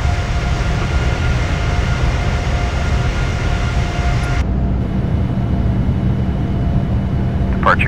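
Simulated Boeing 787-9 jet engines roar steadily during the climb after takeoff in Prepar3D, a loud continuous rumble with a brief tonal whine. The tone partway through drops away and the broadband roar continues alone.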